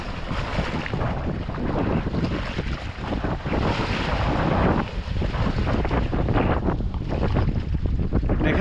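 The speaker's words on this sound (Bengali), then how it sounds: "প্রচুর বাতাস, এবং বাতাসের সাথে সাথে এই যে মানে লেগের পানি এরকম দুল খাচ্ছে" Strong wind rushes across Kaptai Lake, buffeting the microphone in loud, continuous gusts while the water sloshes and laps close by, with no voices.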